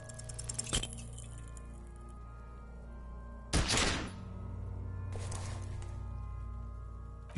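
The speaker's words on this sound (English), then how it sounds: "You hear an explosion within the weapon in your hands." A single pistol gunshot in Disco Elysium, a sharp loud burst followed by a short ringing decay over a steady ambient background, with an earlier faint metallic click.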